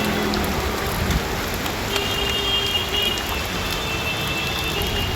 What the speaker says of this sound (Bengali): চারিদিকে বৃষ্টি।